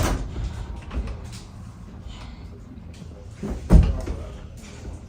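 A door at a post office bangs open once with a sharp thud after softer rattling handling noises; a faint voice can be heard in the background.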